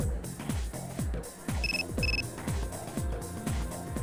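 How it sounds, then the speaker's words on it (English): In Persona 3 FES, a short two-beep text message alert chimes twice over rhythmic game background music, with no talking. "Receive a text message"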